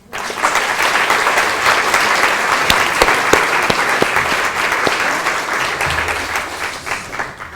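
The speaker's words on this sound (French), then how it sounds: "On peut applaudir mesdames." An audience at a regional eloquence contest applauds, a dense sustained clapping from a roomful of people, loud and steady before tapering off at the end.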